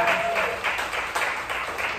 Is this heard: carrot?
no